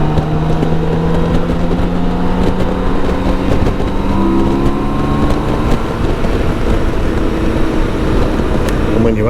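BMW K1600GT motorcycle accelerating to overtake, its engine drone rising steadily in pitch under constant loud wind roar on the road.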